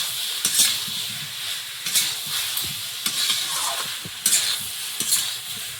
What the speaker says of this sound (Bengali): মশলার সঙ্গে আলুটা ভালো করে কষিয়ে নিলাম।